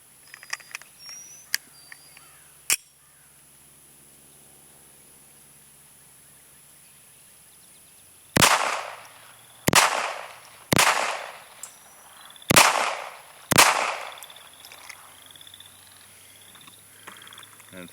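Five sharp gunshots from a Beretta U22 Neos pistol crack at an outdoor range, spaced about a second apart, after a quiet stretch with faint handling clicks.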